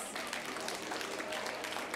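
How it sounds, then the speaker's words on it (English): A live game-show audience at a holiday event claps together, a dense, steady wash of applause lasting two seconds, with some voices mixed in under the clapping. "Give yourselves a round of applause."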